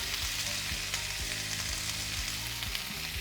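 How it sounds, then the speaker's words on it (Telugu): Tomatoes with chillies, turmeric and salt fry in a pan, giving a steady, close sizzle with occasional stirring scrapes throughout. "ఇప్పుడు టమాటాలని మంచిగా వేయించుకోవాలి"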